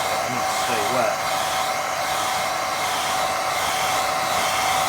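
A handheld hair dryer blows steadily and loudly on a wet watercolour painting, its even whoosh continuous from start to end with a faint whine running through it.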